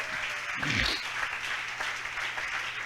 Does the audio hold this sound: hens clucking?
no